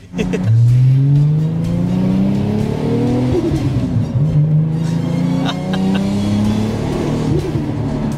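A tuned 800 hp Nissan Skyline GT-R R33 engine blips up sharply, then sustains a loud, raspy rev with small rises and dips in pitch throughout, close by.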